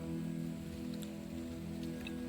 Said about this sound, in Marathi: बारीक बारीक पाऊस लागला वाटता.